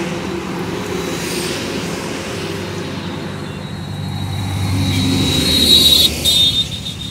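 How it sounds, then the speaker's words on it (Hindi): Road traffic passes near a flooded crossing on the Shivnath river: a continuous rumble of vehicles, swelling as one draws close toward the end and then easing. No one speaks. "देखिए पूरा ट्रैफिक आ रहा है अभी आपके रायपुर से"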